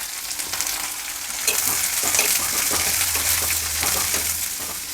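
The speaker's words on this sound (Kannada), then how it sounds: "ಈಗ ಹಚ್ಚಿಟ್ಕೊಂಡಿರೋವಂಥ ಈರುಳ್ಳಿನ ಹಾಕ್ತಾಯಿದ್ದೀನಿ" Chopped onions sizzling in a hot pan for a Kannada dosa filling, a steady bright frying hiss with soft stirring scrapes and clatter over it, no talking.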